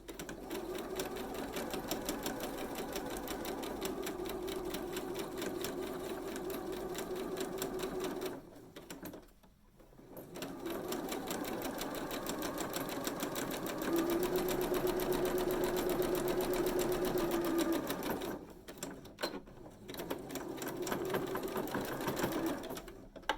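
A sewing machine stitches around the curves of a mini stocking in long, steady runs of rapid, even chatter. Two brief pauses fall where the fabric is turned.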